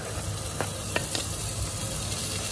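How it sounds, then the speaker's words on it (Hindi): Capsicum fries with onions in a pan, giving a steady, quiet sizzle with a few light scrapes of stirring. No voice is heard over it. "इनको दो मिनट के लिए भुनेंगे"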